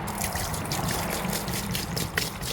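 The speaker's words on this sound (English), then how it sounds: "just going to pour all 3 of these in and see where it lands" Simple Green Pro HD purple heavy-duty cleaner pours steadily into a plastic tote for soaking an LS cylinder head, a continuous close trickling and splashing of liquid with no talk.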